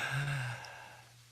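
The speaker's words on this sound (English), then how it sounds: "let's all take a big deep breath" A person takes a big, deep breath, a single long airy inhale and exhale that rises quickly and trails off softly, close to the microphone.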